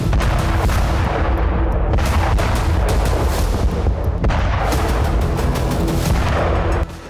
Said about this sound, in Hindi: रूस ने जमीन और आसमान से यूक्रेन के कई फ्रंट पर मिसाइल विस्फोट किए।